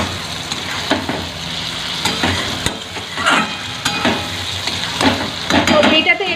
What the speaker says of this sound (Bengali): এই মশলার সাথে মাছগুলোকে আর কি কষতে থাকবো